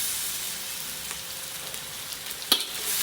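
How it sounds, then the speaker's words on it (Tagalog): Shrimp paste for Bicol Express sautés in a pan with a soft, even sizzle, punctuated by a few brief scrapes and a sharper clatter of stirring near the end. "Gisa lang natin yan."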